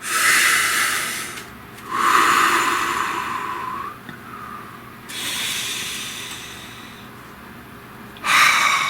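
Slow deep breaths taken close to the microphone, three long airy inhale-exhale cycles with soft hissing, each lasting a couple of seconds, heard alone with brief pauses between.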